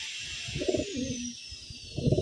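A large checkered pigeon coos in a few low, throaty phrases with a pause between them, close and fairly clear over a faint high background hiss.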